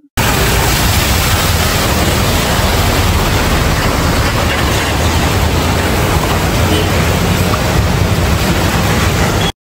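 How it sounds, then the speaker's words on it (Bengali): Floodwater rushes fast along a waterlogged Kolkata street after heavy rain, making a loud, dense, unbroken roar that stays constant throughout, with no voices. "দেখুন জলের টান কি বেগে যাচ্ছে"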